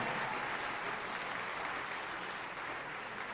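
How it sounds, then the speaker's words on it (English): A gala audience applauds with steady, sustained clapping from many hands, a dense, even wash that stays at a constant moderate level throughout and sounds somewhat distant. "Let's give all three people a huge round of applause"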